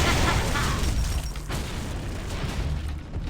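Frag grenade blast in the Gears of War: Judgment shooter, a loud broadband boom at the start that rumbles and decays over a few seconds under continuing game noise.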